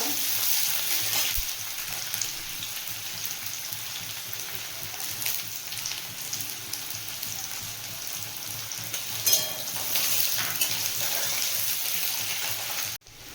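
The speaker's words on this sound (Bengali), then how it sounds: "পেঁয়াজ কুচিটা দিয়ে ভালো করে ভেজে নেব" Chopped onions sizzle and fry in oil tempered with dried red chillies and black cumin, a steady crackling hiss with occasional stirring clicks, fairly close, with no talking.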